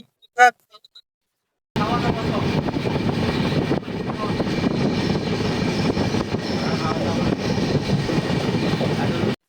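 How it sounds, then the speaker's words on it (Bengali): Duronto Express train from Howrah to Bangalore slowing down, heard from onboard as a steady mid-level rumble after a short burst of sound and a brief silence at the start, with a momentary dip in the middle. "ট্রেনটা স্লো হয়েছে"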